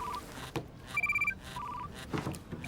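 A mobile phone rings indoors with a bright electronic melody in short repeated bursts, fairly close, with a brief bump and some faint background movement between the tones.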